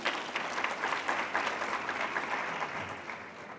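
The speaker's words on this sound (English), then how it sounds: "Can you please applaud them?" Audience applause at a women's economic assembly event, steady dense clapping from a sizeable crowd filling the whole stretch at even loudness without speech.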